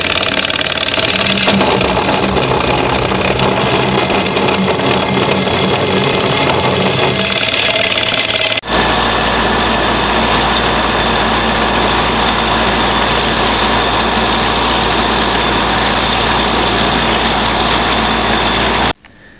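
Thick, derusted steel angle iron from a Pasquali articulated tractor rotovator is cut to length by machine, a loud continuous mechanical drone that shifts tone midway and then stops abruptly at the end.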